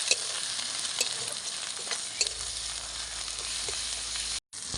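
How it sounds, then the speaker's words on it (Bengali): Turmeric, cumin, coriander and chili powders fry in a pan for a Bengali prawn pulao while a spoon stirs them: a steady bright sizzle with occasional scraping clicks, close and continuous, cutting out briefly near the end. "এবার ভালো করে মশলাগুলো মিশিয়ে নেব।"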